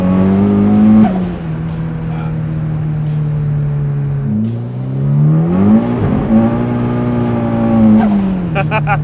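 A turbocharged Mazda Miata with a retuned fuel system accelerating hard and flat-foot shifting: a loud, close engine note climbs, drops sharply at each quick gear change and climbs again.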